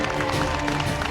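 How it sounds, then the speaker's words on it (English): Audience applause at a children's cooking competition, a steady dense wash of clapping and crowd noise with a faint voice mixed in, sustained for the whole moment. "Big hand of applause"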